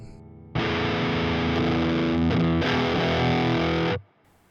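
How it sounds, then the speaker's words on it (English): Electric guitar played through a Donner fuzz pedal, a thick, buzzing sustained chord that starts abruptly, holds loud and saturated for about three seconds with a brief re-strike midway, then cuts off sharply. "Here's a fuzz tone."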